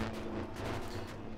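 Small and big cannons firing in the building game Trailmakers, a dense run of booming shots that blur into a steady rumble with a low hum beneath.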